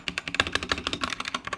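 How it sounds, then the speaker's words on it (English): Fast typing on a KREO Hive mechanical keyboard with pre-installed case foam, a quick run of crisp, close clacks with uneven rhythm and no talking. "Keyboard comes pre-installed with a case form which improves the sound profile."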